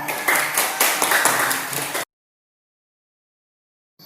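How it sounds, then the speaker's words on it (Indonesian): Classroom of students applauding all the discussion groups together, a dense burst of clapping for about two seconds that cuts off abruptly into silence. "kita beri aplaus untuk semua kelompok"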